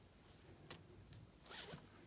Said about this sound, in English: And it's got a zip down the side